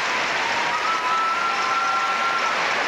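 Crowd applause at the Sydney 2000 Olympics after a rhythmic gymnastics individual ribbon final routine by Yulia Raskina of Belarus, a steady dense wash of clapping filling the arena with no voices over it.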